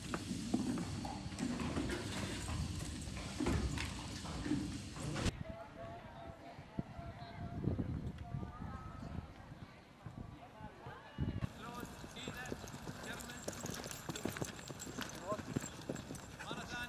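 Horse hooves clip-clopping during riding training at a Kuwaiti equestrian facility, a steady run of hoofbeats on ground with arena noise, continuing under a voice.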